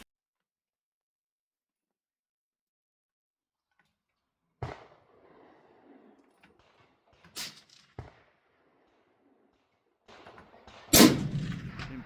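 Four rifle shots fired at a target on an outdoor range, sharp loud cracks spaced a few seconds apart with quiet gaps and brief echoes between them.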